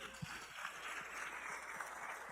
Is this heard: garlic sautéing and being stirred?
no